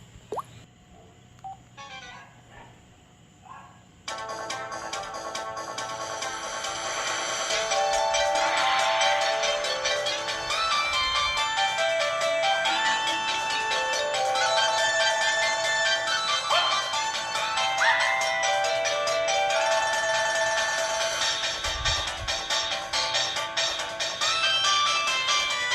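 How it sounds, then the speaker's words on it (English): A Sanyo flip phone plays a recreated kung-fu ringtone, a loud electronic melody of dense, bright tones that starts after a few seconds of faint clicks and then runs steadily on its own. "a clip of one of my flip phones, Sanyo flip phones, playing the ringtone right here"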